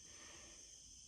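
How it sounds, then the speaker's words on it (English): Cicadas drone in a steady, continuous high-pitched buzz, faint and distant in the background, with no talking. "you could probably hear the cicadas in the background."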